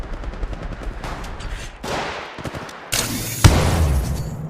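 Gunfire from the mobile shooter Apex Legends Mobile crackles in rapid bursts, with a heavier, louder volley and a booming impact near the end, no speech.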